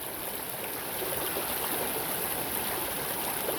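A creek rushes steadily down over rocks at a prospecting site on a mountain, a dense continuous broadband flow, close and unbroken, with no voices.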